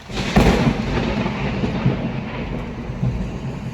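Thunder rumbles loud and close after a nearby lightning strike during a tornado storm at a homestead, with a sharp crack early on, then a sustained, rolling roar and heavy rain underneath.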